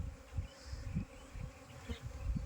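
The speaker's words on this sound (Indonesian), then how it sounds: "Dan masih banyak lebah yang masih berhamburan." Swarm of Asian honey bees (Apis cerana) from an aggressive colony buzzing around a hive box after being moved, a steady droning hum with pulsing surges, close and fairly loud, no voices.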